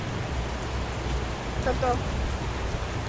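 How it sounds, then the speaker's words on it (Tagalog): Rain falling steadily outdoors, a soft continuous hiss of drops heard close, with a faint brief tonal sound midway. "So, ayang ulan, uulan, titigil."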